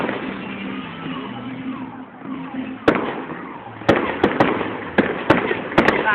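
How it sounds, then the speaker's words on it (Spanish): Fireworks go off over Quito: a rumbling background of distant bursts, then sharp, loud cracks, one at first and then several in quick succession, as voices are faintly heard in the crowd. "Vamos a salir a los fuegos artificiales"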